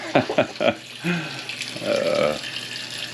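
A brief voice, then water rushing steadily into a washing machine drum, a continuous hissing flow that fades out toward the end.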